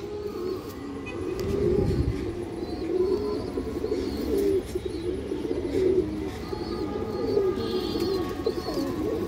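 A silver khaki male pigeon coos in repeated low, rolling phrases amid a flock of other pigeons, the calls steady and near throughout.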